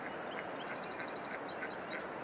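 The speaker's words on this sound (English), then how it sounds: "The ducks." Ducks on a river at sundown quack in a quick, repeated series, faint and distant over a steady outdoor background hiss.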